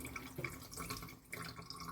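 Excess water drains out of a plastic ice mold as an insert is pushed in, a faint soft trickle and dripping close by with no voices.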